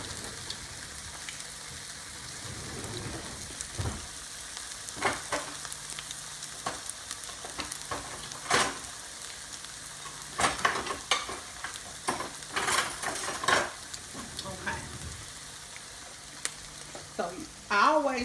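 Green tomato slices frying in oil, giving a soft, steady sizzle at modest volume, with occasional louder crackles and utensil clinks near the pan.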